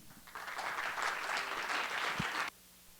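An audience welcomes a professor at a debate on intelligent design with a short burst of applause, a dense wash of clapping lasting about two seconds at moderate loudness before cutting off abruptly.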